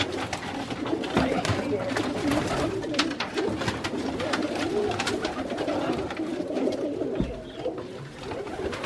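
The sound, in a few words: roller pigeon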